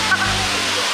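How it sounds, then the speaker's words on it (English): A small waterfall beside a paved walkway near a bar gives off a steady broadband rush of falling water, close and constant, with a brief voice near the start. "Just up a paved walkway, and you're at this little waterfall"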